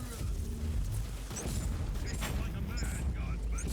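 A rumbling blast in a video game, set off by an explosion-on-kill effect, with dense crackling debris and scattered high zips and pings across the whole stretch and no pause.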